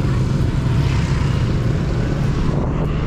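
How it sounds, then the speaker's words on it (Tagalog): A propeller airplane passing over Pateros in Metro Manila makes a steady, heavy low drone, loud and close, mixed with buffeting wind noise and no pause throughout. "And may mga dumadaan na aeroplano dito"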